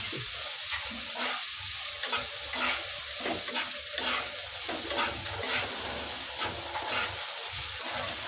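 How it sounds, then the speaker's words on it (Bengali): Chinese-style mixed vegetables stirred in a hot pan with a steady sizzling hiss, punctuated by repeated scraping and clattering strokes of the spatula, close and clear with no voices. "এখন আমি সব সবজিগুলি একটু নেড়ে নিচ্ছি"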